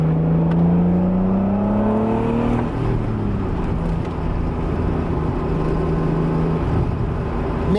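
Mid-engine Acura NSX downshifting: the engine note rises in pitch, then drops with a blip as the gear changes and settles into a steady, loud drone from inside the car.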